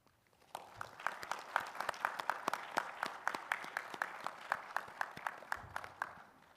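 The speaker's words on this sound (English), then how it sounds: "please join me in a round of applause for your loved ones" Graduation audience applause at the Arizona College of Podiatric Medicine Class of 2026 ceremony, a sustained round of many hands clapping at a distance, rising quickly and holding steady before fading.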